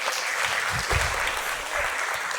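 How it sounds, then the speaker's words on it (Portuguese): Audience applauding at a church service, steady dense clapping filling the whole moment, fairly loud and close, with no talk over it. "uma salva de palmas para vocês"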